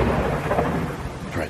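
Thunder rumbles in a deep, continuous roll through a storm over a valley, with rain noise mixed in, filling the short stretch without any talking.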